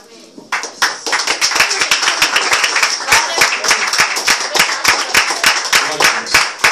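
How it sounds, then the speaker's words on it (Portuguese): Congregation clapping during a church service: loud, rapid, rhythmic handclaps from many people, dense and continuous, with voices mixed in underneath. "Aplauda o Senhor Jesus, Deus."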